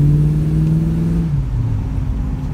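A 1937 Chevrolet coupe engine hums loudly as it accelerates, with a steady low drone that drops in pitch midway, then settles into a lower rumbling tone, close by with no voices.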